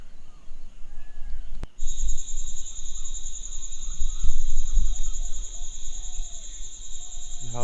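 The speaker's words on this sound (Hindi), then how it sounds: "यहाँ पर प्रॉपर जंगल की आवाज़ आ रही है।" Crickets and other insects in a jungle at night keep up a loud, steady, high-pitched trill that starts abruptly after a brief click, with faint low rustles beneath.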